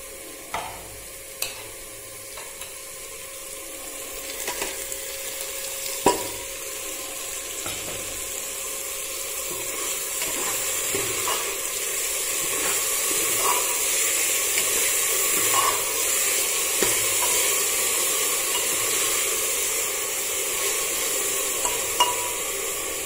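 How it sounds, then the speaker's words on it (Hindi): Soybean chunks are added to a pan with browned ingredients for namkeen rice and fry with a continuous sizzle, while occasional scraping stir strokes and clinks punctuate the hiss. "हूँ आप ऐड कर देंगे अपन सोयाबीन वड़ियाँ।"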